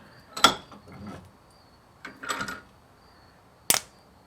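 A car key for a Toyota or Lexus gets clamped in a metal vise, three sharp close clicks and rattles separated by quiet pauses, with one crisp final snap.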